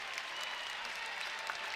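Crowd applauding and cheering at the end of a women's college basketball game between UCLA and Oregon in an arena, a dense continuous roar of clapping throughout.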